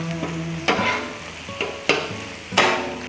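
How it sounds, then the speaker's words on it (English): A spatula chops and stirs ground beef with onions frying on a Blackstone griddle, three loud metallic scrapes and knocks over a continuous sizzle. "Continuing to chop while we go."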